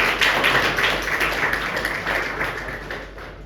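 Congregation clapping in a church for a newlywed couple, a steady dense patter of many hands filling the room, fairly loud and continuous throughout.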